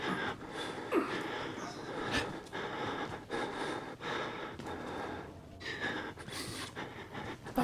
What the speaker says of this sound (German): Warum schnauft er jetzt schon wieder so?